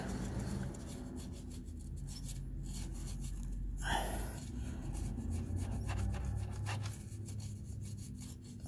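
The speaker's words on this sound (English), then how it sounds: "use a little blade and just scrape it, all this gunk off" A small blade scrapes old gasket residue off a mounting surface on a 2016 Toyota Camry, making close, faint, repeated rasping strokes with one sharper scrape partway through.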